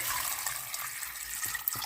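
Water running steadily into a pot to cover a bagged pork roast for boiling, a close, continuous hissing rush with no talking.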